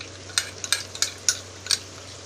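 Almond paste ground with milk goes into meat cooking in a pan, giving a run of short, sharp scraping and sizzling bursts near the mic over a low steady hum, with no talk.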